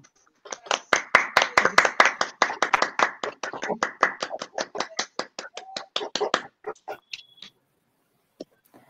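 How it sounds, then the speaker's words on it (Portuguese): Applause at a university hackathon closing ceremony: a steady run of sharp claps, dense at first and thinning out after about six seconds, ending with a few scattered late claps. "Peço uma salva de palmas a todos."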